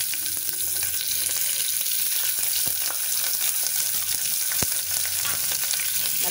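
Half an onion sautés in a hot pan for egg kurma, giving a steady close sizzle with scattered crackles and one sharp tap of a utensil.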